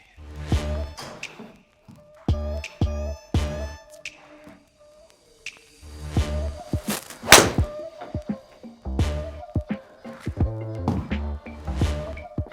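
A Callaway Apex Pro golf iron strikes balls repeatedly, each hit a crisp, sharp click-thwack ringing briefly, spaced irregularly and heard loud and close over a tonal background.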